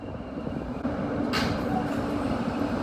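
An R160 subway train runs on the New York F line as an E local, giving a steady close rumble of wheels and motors, with a brief hiss partway through and no talk.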